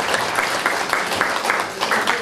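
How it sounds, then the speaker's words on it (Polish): Applause from a seniors' Easter gathering at a community cultural centre, greeting the rector and director: a short, steady burst of clapping from a modest indoor crowd, fairly close and even throughout. "I tutaj duże brawa dla naszego rektora, dyrektora Domu Kultury"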